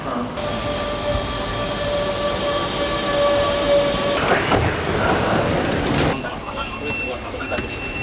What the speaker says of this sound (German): So, jetzt kommt erstmal meine S-Bahn.